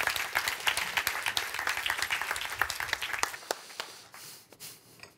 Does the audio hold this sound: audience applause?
yes